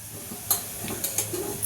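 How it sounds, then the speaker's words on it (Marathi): Cumin seeds drop into hot oil for a tempering, making a soft, close sizzle with a few quick crackles and light pan clicks. "तेल आपलं गरम झालेलं आहे आता फोडणीसाठी मी जिरं टाकते"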